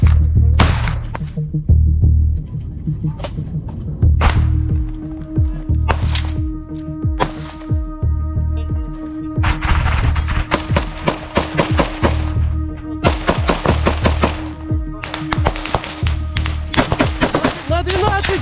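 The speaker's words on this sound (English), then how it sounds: "The footage shows the use of a grenade launcher." Close-range combat with gunfire and a grenade launcher: sharp, loud shots crack in irregular bursts and rapid strings, some booming thuds among them, while voices shout in between.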